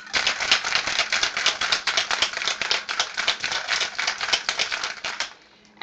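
Vodka martini shaken hard in a cocktail shaker with ice, a loud, fast continuous rattle of ice against the metal for about five seconds before it stops.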